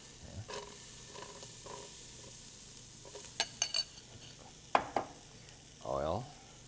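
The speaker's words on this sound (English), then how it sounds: "We're going to put some onions" Onions dropped into hot oil in a pan while cooking a Kenyan beef stew, giving a steady sizzle and fry with stirring scrapes, a few sharp clinks of utensils and a louder burst of crackling near the end.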